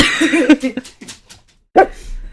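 A dog barks a few times, close and fairly loud, between stretches of people talking.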